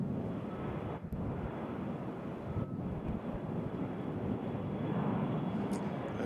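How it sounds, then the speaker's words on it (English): Steady wind roars across an open airport apron at Nashville International, a dense, unbroken low rumble of gusts buffeting the microphone that holds for the whole stretch with no pause. "how the wind's blowing out here"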